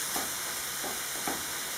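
Food being stirred in a frying pan, a steady close sizzle with three soft scraping strokes at even intervals.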